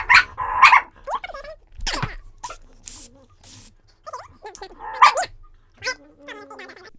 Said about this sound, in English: Hold for dogs. Pause for dogs.